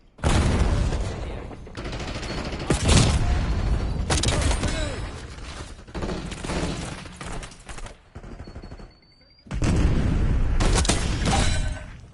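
Grenade blasts and rapid gunfire from a video game crash out in loud bursts, with booms and shattering debris separated by brief quiet gaps.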